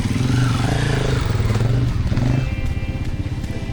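A KTM motorcycle rides past up close and loud, its engine note rising and falling as it passes, with a rough mechanical rasp that continues throughout.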